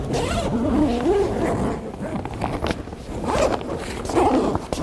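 A zipper is pulled in short, effortful strokes close up, at a car collection showing rare Cobras, with faint background voices and shuffling around it.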